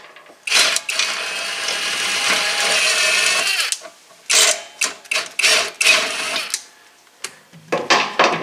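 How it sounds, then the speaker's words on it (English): A 3/8-inch impact gun works on the shock bolts of a 2013 Mustang GT: one long whirring burst, followed by a string of short, sharp rattling bursts with brief pauses between them, all close by. "The first time I used that 3/8 gun, and I'm liking it."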